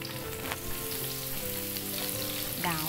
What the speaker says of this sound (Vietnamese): đầu dầu nó nóng lên rồi mình phi hành với tỏi lên cho nó thơm